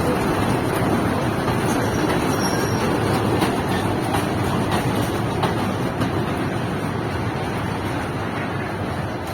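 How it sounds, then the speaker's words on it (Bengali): A train rumbles past steadily through deep forest, a dense, continuous roar of wheels on rails that stays loud throughout, with no talking. "ট্রেন আসছে"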